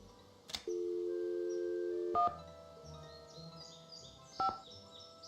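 Touch-tone telephone dialing in the Nancy Drew game Ghost Dogs of Moon Lake: a long steady tone, then a few short dual-tone key beeps spaced apart, clear and fairly quiet with no talking.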